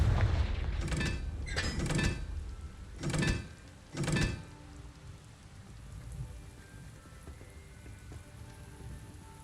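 Confringo spell explosions burst in the video game Hogwarts Legacy, four quick, fairly soft blasts in a row, then a hissing, rain-like tail that trails off quietly.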